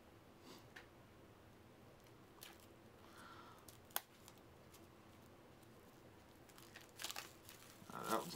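Packaging being opened on a TableStar Games card game deck, quiet crinkling and rustling with a single sharp click, building into louder crinkles near the end, no talking.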